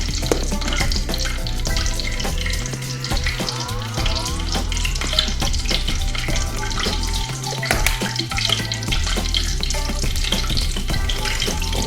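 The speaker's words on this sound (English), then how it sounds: "tell if the oil's hot. And go the tortilla chips, just a few seconds on each side." Tortilla chips for seafood nachos frying in hot oil, a loud, steady, dense sizzle with crackling that carries on without a break, close and with no voices.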